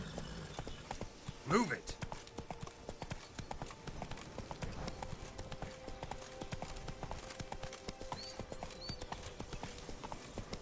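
Roach the horse gallops in the video game The Witcher 3, giving a fast, steady clip-clop of hooves throughout, with a brief louder cry near the start and someone shouting over the hoofbeats.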